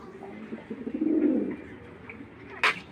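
Racing pigeons from a breeder's loft coo in a soft, low rolling call that swells in the middle, with a brief sharper sound near the end and no talk over it.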